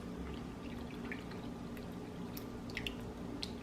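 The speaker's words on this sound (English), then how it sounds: "I'll pour my milk in" Milk poured for an eggless chocolate cake: a steady close liquid stream with small drips and splashes, continuous and fairly quiet.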